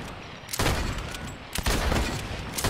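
Gunfire in the Fortnite video game: loud bursts of shots that repeat in a rough rhythm, with a sustained noisy game background between them.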